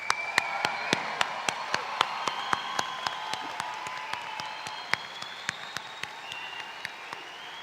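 A large audience at a high school graduation applauds steadily, a dense wash of clapping with sharp close claps standing out, while a faint voice carries over it.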